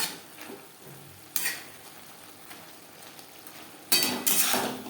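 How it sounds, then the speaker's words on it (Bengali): Chichinga, or snake gourd, stirred and fried on a high gas flame, with a soft frying hiss under sharp bursts of scraping and clattering as the spatula tosses the vegetable, louder at the end. "হাই ফ্লেমে দু মিনিট নাড়াচাড়া করে দেবো"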